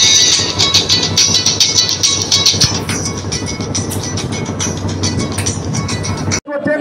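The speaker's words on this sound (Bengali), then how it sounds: "সামনে এখনো ট্রেন ওখানে আছে" A toy train ride runs inside a Durga Puja pandal, giving a steady rattling clatter of wheels and cars that rolls on loudly and evenly without pause, with a brief cutoff near the end.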